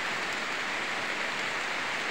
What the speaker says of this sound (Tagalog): Lakas ng ulan talaga